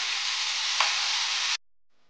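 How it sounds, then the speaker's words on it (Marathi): Green spice paste for sabudana khichdi sizzles loudly in a pan for about a second and a half, then cuts off abruptly. "आणि हे वाटण देखील आपल्याला व्यवस्थित परतून घ्यायचं आहे."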